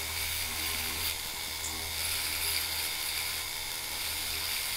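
Small rotary tool buffing the edge of a silver metal clay earring, a faint continuous high whir with light grinding texture, steady and close, with no voices.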